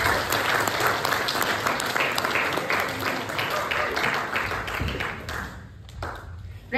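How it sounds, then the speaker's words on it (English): An audience at a real estate investing seminar for Filipinos in Canada gives sustained applause to speaker Tom De La Cruz. The dense, even clapping fills the room and thins out toward the end. "So let's give him a round of applause,"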